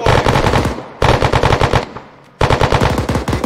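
Three bursts of rapid automatic gunfire, loud and close with short gaps between them, ring out during a cadet corps reunion exercise.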